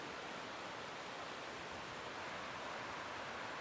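A tall waterfall near a glacier on a mountain backpacking route pours in a faint, steady, even hiss from a distance, with no talking.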